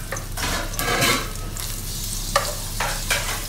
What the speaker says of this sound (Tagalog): At kapag mainit na ang mantika, maaari na natin ilagay ang ating bawang.